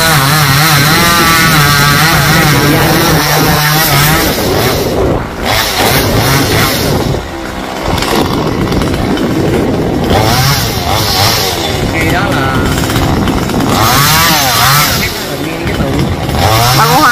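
A chainsaw cuts long branches on a rain tree, running loud and steady throughout with the engine note rising and falling as it bites, close by with faint voices underneath.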